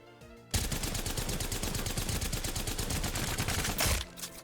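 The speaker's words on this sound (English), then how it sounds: "What gun has a good recoil? Let's pick up the Havoc." A Havoc energy rifle in the Apex Legends video game fires a steady fully automatic stream of rapid evenly spaced shots, loud and close, for about three and a half seconds, then stops and leaves a faint tail.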